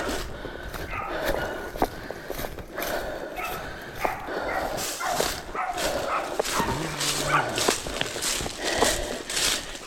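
A deer recovery dog barks and yips repeatedly in quick bursts outdoors, mixed with rustling movement and footsteps, while people shout encouragement over it.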